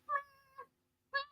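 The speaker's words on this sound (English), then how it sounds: "so that's about how loud he meows" A pet cat gives soft, quiet meows, two close together and then a third after a short pause, faint and near, with no talking.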